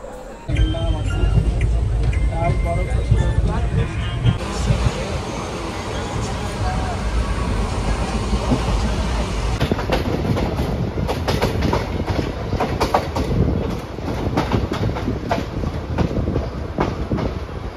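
A passenger train rolls along the rails near Kolkata with a steady roar and rhythmic clatter from start to finish, and voices murmur faintly inside the carriage.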